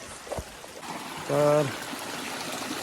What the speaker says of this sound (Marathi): आता हे भरतोय पाणी